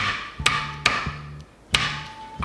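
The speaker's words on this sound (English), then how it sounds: "I just kind of smash it and peel it, and then smash it a little bit more" Garlic cloves are smashed on a kitchen board with sharp, close thuds, four or five hard hits at an uneven pace, with a quiet pause between them.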